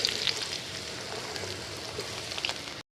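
Potato pieces seasoned with salt and turmeric fry in hot oil with a steady, crackling sizzle and scattered pops, close by and without any talking.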